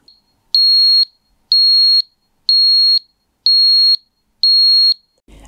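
A FIBARO flood sensor sounds its acoustic alarm: five evenly spaced, loud, piercing high-pitched beeps, each about half a second long, separated by brief silences.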